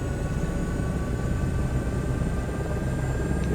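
An Airbus H125 helicopter engine in MSFS 2024 spools up with a steady, loud turbine whine and a dense low rumble, continuous and unbroken.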